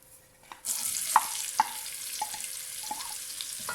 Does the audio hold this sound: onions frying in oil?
yes